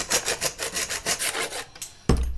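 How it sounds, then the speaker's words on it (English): A hacksaw cuts excess bamboo with quick rhythmic back-and-forth rasping strokes, about a dozen close, even passes, then a short pause and a dull knock. "So I can cut off the excess on that with my hacksaw"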